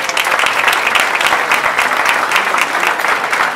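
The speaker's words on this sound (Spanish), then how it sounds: "Un aplauso para ella" Guests at a ham, cheese and wine event in Torrevieja give a loud, close round of applause for the mayor of Almoradí, dense even clapping that holds steady throughout.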